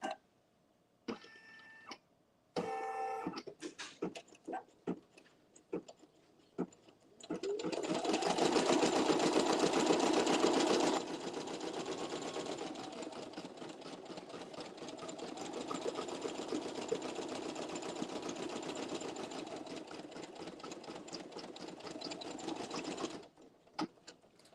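An embroidery machine runs a satin stitch over foam for an embossed design, starting with a few sharp mechanical clicks and stutters, then settling into a fast, continuous needle whir that holds steady before stopping abruptly.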